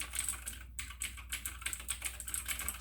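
Brisk typing on an AUKEY tenkeyless mechanical gaming keyboard with blue switches, a rapid, fairly close stream of crisp clicky keystrokes heard alone without talk.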